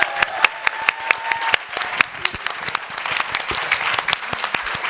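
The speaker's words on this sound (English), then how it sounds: "if everyone could give these guys a round of applause" An audience at a mental-health conversation event applauds, with many hands clapping in a busy, crackling patter. Sharp individual claps stand out from the crowd throughout, and no one speaks over it.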